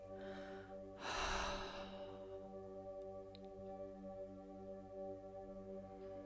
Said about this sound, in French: tu vas pouvoir prendre cette grande inspiration et expirer par la bouche